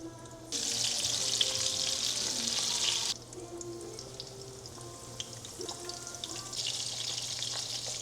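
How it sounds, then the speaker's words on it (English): Breaded schnitzel sizzles in hot frying oil, a steady broad hiss that jumps up as the piece drops in, eases briefly, then swells again, close and continuous with no talking. "Hopefully you could hear that sizzle."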